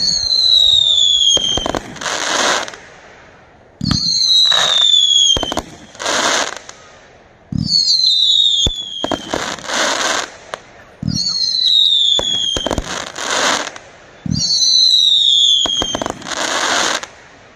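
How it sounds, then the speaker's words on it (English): A World Class 36-shot Extreme Machine consumer firework cake fires off in repeated cycles, each a rising whistle followed by a sharp bang and crackling burst, loud and evenly spaced through the stretch. "This next one from World Class number 81 is a 36 shot Extreme"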